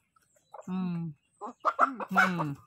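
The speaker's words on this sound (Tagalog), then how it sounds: "Itong mga manok na ito." Several chickens cluck and squawk up close in short bursts, a drawn-out call followed by quicker choppy clucks.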